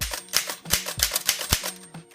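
Rapid mechanical clacks of a typewriter being typed on, loud and close with a steady uneven rhythm of sharp key strikes and occasional carriage-like thumps, no voices.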